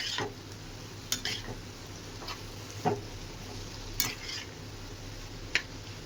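Fried prawns and boiled potatoes are stirred in a pan, with a steady low sizzle under several sharp, separate scrapes and clinks of a utensil against the pan. No one speaks.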